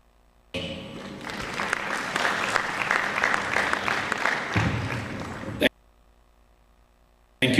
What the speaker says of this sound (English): A round of applause for all our partners who have made commitments.